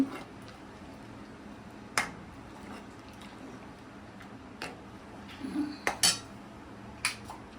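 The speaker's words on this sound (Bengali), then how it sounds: "স্যাফরন দিয়ে দুধটা একটু ভালোভাবে নাড়িয়ে নিচ্ছি।" Saffron milk stirred in a pan: a spoon clinks faintly against the metal a few times at uneven intervals, sharp little ticks over a quiet background.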